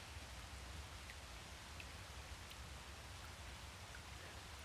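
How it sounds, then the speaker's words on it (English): Heavy rainfall in Dragon's Dogma 2, a steady, dense hiss of downpour with low rumbling undertones that runs unbroken and fairly quiet throughout, with no voices. "Raining most heavily."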